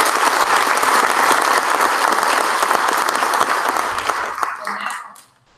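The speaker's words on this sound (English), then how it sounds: "So I just please everybody a round of applause." An audience at a community college State of the College address breaks into loud, sustained applause that holds steady for several seconds, then tapers off and ends abruptly.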